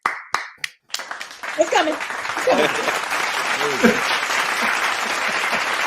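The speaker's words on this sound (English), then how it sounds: "let's give him some hand claps" A studio audience gives a guest a round of hand claps on a talk show: a few sharp isolated claps at first, then steady dense applause with a person talking over it.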